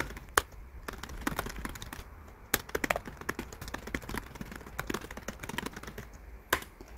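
Rapid clicking of computer keyboard keys, including Enter presses, while entering numbered paragraphs in the Hangul 2020 word processor; steady, close, dense typing with occasional sharper key strikes and no talking.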